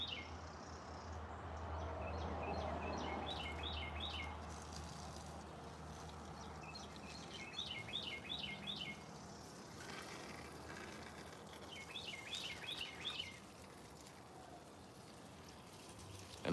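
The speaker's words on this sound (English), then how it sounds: "And listen to the birds." Bright, repeated bird chirps in three short bursts over steady outdoor background noise, moderately distant, with no talking.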